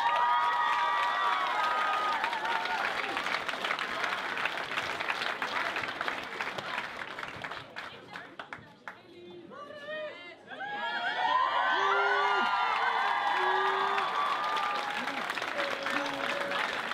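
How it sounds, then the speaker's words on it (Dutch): Audience applause and cheering at a glamour night show: a dense wave of clapping with scattered whoops, dropping briefly before swelling again, with voices calling out and chatter mixed in. "Een applaus."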